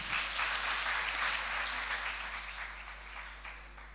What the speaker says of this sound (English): Let's give both teams a round of applause, please